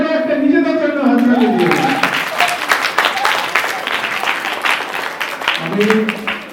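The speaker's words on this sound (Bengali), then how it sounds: "জোরে একটা নিজেদের জন্য হাততালি।" Audience at a children's Durga Puja Agamani program, with dances and a Mahishasuramardini dance, breaks into loud sustained clapping from many hands, following a brief voice and then tapering slightly.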